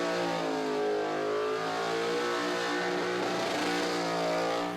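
A big wagon with a tunnel-rammed, twin-carburettor LS1/LS2 V8 revs hard and steadily during a drag-strip burnout at Sydney Dragway, a loud, sustained roar at high revs throughout with no voices.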